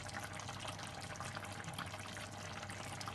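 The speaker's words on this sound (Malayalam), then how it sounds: "ജസ്റ്റ് നമ്മുടെ കോക്കനട്ട് ഓയിൽ ജസ്റ്റ് ഒന്ന് ഒഴിച്ചു കൊടുക്കാം" Coconut oil trickles into a Kerala-style Palakkad fish curry, a faint steady liquid pour with a low continuous hiss and no talking.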